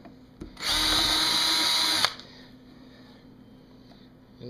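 A power drill bores through the lid of a wooden weasel trap box in one continuous loud, close run of about a second and a half, followed by quiet workshop background.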